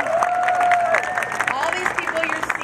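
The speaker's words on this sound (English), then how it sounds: "So big round of applause." Outdoor crowd at the 2017 San Francisco science march claps and cheers, with whoops and shouts rising over the dense, close applause that runs the whole time.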